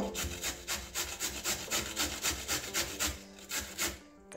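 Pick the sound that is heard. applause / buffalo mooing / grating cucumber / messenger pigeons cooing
grating cucumber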